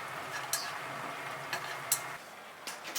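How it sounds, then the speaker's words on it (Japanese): Eggplant is stirred with chopsticks in an oiled frying pan: soft sizzling sits under light, sparse clicks and taps of the chopsticks against the pan, quiet and close, with no talking. "まず油をひいたフライパンにナスを入れて、箸で混ぜて油を絡めます"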